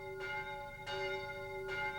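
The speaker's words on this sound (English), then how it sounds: "the bells of Notre Dame sounded lovelier" Church bells of Notre Dame ring out in an animated retelling, three evenly spaced strikes with long sustained ringing tones, moderately loud with no talk.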